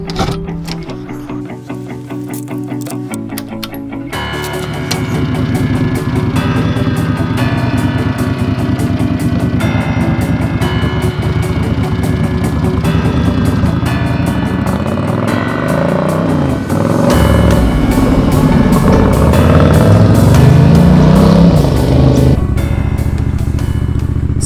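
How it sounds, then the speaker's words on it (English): A cafe racer motorcycle being ridden, its engine droning steadily and rising as the throttle opens, recorded close from a helmet camera with no talk, continuous throughout. "I do want to take the bike out for a spin"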